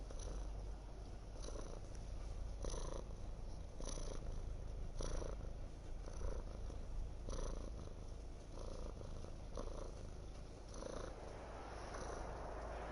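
A house cat purrs close up, a low continuous rumbling with a regular breathing rhythm, soft and steady with nothing else around it.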